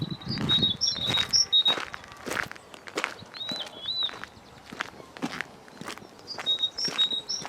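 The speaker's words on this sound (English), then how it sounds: "All the birds telling me to clear off." Small birds chirp in a park with a children's playground: brief high tweets repeat on and off over steady footsteps crunching along a path, fairly near and moderately loud.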